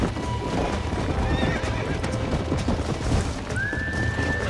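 A horse in the Western video game Red Dead Redemption gallops with steady, rapid hoof clops. A sharp, rising whinny cuts in near the end. Everything is loud and close, with game ambience behind it.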